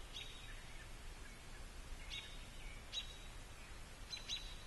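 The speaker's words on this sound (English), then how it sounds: "You hear birds." Faint, sparse bird chirps come at intervals over quiet woodland ambience, with a soft rustle in the background.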